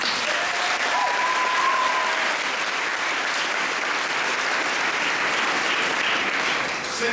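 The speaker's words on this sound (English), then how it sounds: "I'll now ask the speakers to stand up and accept their own individual applause." Sustained audience applause at a formal debate final, dense and steady clapping from a full room with a faint whistle-like tone early on, continuing without a break throughout.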